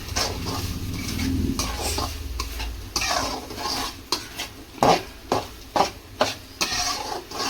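Egg and broad beans stir-fried over a high flame in a pan for a Tamil avarakkai egg poriyal: a steady sizzle under scraping stirs, then a run of sharp, rhythmic clanks of a utensil against the pan, loud and close.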